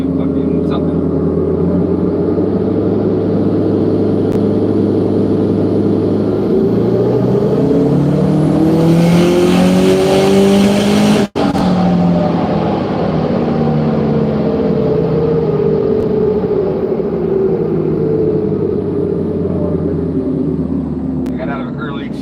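High-horsepower car engine roaring under load on a dyno, climbing in pitch through a long pull with a brief break near the middle as it misfires, then winding back down; loud and continuous.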